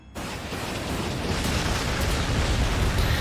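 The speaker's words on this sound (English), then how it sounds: "So I'm gonna throw some rockets on him." Rockets fired and exploding in the strategy game Warhammer 40,000 Sanctus Reach, a sudden loud blast opening into a dense, sustained roaring rumble that holds steady to the end.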